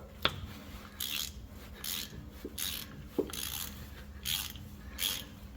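A wrench works a rusty bolt on a 1988-1999 Chevy Silverado front axle, giving repeated short rasping, scraping strokes about once a second with a few sharp metallic clicks, close and fairly quiet.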